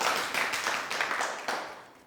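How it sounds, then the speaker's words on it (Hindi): A group claps loudly for the goat team during a game. The claps come as a close, continuous burst of many hands with uneven peaks, fading slightly at the end. "और अब बकरी टीम के लिए और जोरदार तालियां"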